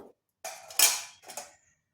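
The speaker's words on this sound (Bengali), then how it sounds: "আর লঙ্কার গুঁড়ো এই শুকনো উপকরণগুলি ভালোভাবে মিশিয়ে নিচ্ছে" A spoon scrapes and clinks against a bowl while salt, black pepper and chilli powder are stirred together with gram flour for an egg snack, in two short bursts of scraping with a pause between, close and clear.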